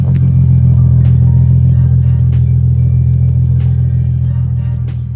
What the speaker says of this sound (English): this low grumbling idle is so cool and aggressive